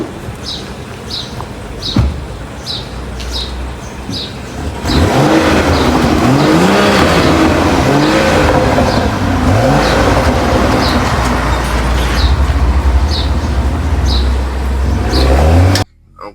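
A 2017 BMW X6 M Package SUV drives: a steady engine drone swells at about five seconds into a loud, sustained run with rising and falling revs, after quieter road noise with faint high chirps at the start.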